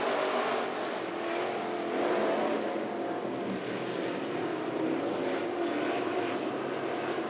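IMCA modified race cars running double file at Grays Harbor Raceway, a dense, steady engine roar filling the whole stretch at a constant loud level, with no talk heard.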